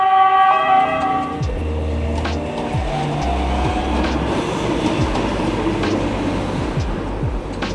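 A Milan metro train rumbles loudly past with heavy low droning, a rhythmic clickety-clack of wheels over rail joints, and a tonal whine at the start, close and continuous.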